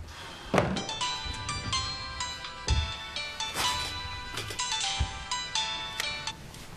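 A telephone rings in a Korean TV drama scene, playing a bright electronic melody that repeats over several bars. A few dull thuds and knocks sound underneath it.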